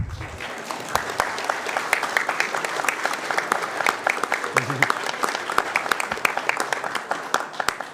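Audience applause at a city council meeting honoring the 2008 class of Hometown Heroes: a sustained, dense round of clapping throughout, fairly close and steady, with a brief low murmur of voices partway through.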